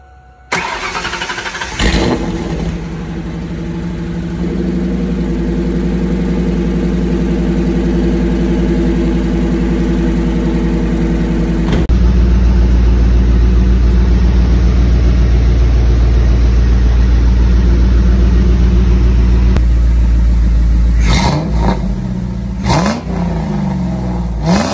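A Ford New Edge Mustang with a custom exhaust cranks, catches and settles into a loud, rumbling idle, then climbs through a sustained rev before dropping back with a few short blips, heard up close without talk.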